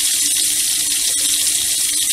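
Hot water running from a tap fed by a 20-amp DSK-65 tankless electric water heater, a steady loud hiss of flowing water, continuous and close with no pauses.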